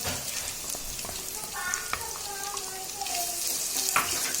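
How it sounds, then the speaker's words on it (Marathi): Onion sizzles in hot oil with curry leaves, a steady hiss broken by light spatula scrapes and a faint high ringing tone. "आता आपण कांदा टाकून घेऊ।"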